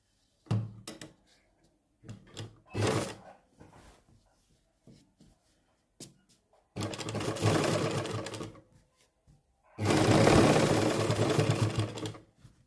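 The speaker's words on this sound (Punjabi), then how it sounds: "ਇੱਥੇ ਆਪਾਂ ਸਭ ਤੋਂ ਪਹਿਲਾਂ ਉੱਪਰ ਇੱਕ ਸਲਾਈ ਲਾਵਾਂਗੇ" A sewing machine stitching buckram into a salwar hem, running in short stop-start bursts and then two longer steady runs of rapid mechanical clatter, with soft handling clicks in between.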